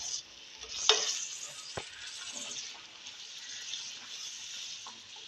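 Egg roast simmering with coconut milk in a pan gets stirred, with a soft, even bubbling sizzle, one sharp scrape near the start and light utensil taps, close and fairly quiet.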